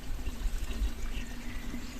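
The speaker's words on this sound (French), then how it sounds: "On monte le vase d'expansion au maximum. Et on met de l'eau tant que ça..." Water is poured into the coolant expansion tank of a 1.6D diesel engine during an injection pump replacement, giving a soft, steady pouring and trickling sound close by with no talk.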